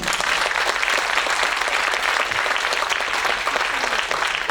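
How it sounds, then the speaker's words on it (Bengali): An audience claps loudly and steadily for a drama troupe after a Bengali stage performance about Behula. The applause is a dense, continuous wash of many hands, with no voices above it. "আমাদের গোটা টিমের জন্য একটা জোরে একটা হাততালি"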